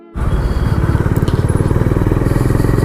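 A Honda Highness CB350 motorcycle being ridden, its engine starting up suddenly and then thumping loud and close in a steady, rapid, pulsing rhythm with no voices over it.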